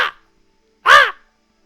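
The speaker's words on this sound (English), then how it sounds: "the sound of a crow breaks the peace" Crow caws as a sound effect: the tail of one harsh call, a pause, then a single loud, clear caw standing alone in silence.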